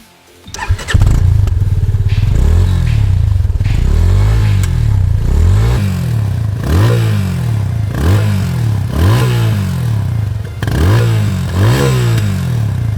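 A Yamaha FZ25 BS6 motorcycle with a short exhaust and mid-shift muffler starts up, then idles with repeated throttle blips, each rev rising and falling in a loud, bassy, close-up exhaust note.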